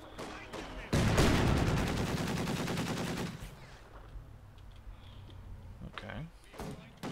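Rapid sustained gunfire in a Company of Heroes 2 battle, a loud dense burst of automatic fire for about two and a half seconds that then trails into fainter scattered shots and battlefield noise.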